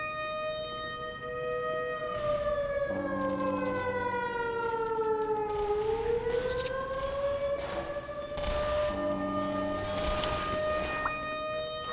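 A wailing alarm siren in the video game Black Mesa, a loud rising and falling tone that dips and climbs again, with gunfire and game effects sounding beneath it.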